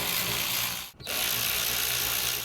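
A socket ratchet loosens a 14mm rear brake caliper bolt on a 2011-2016 Hyundai Elantra: a steady, close clicking buzz that breaks off for a moment and then resumes, with no voices.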